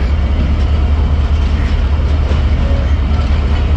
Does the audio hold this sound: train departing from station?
yes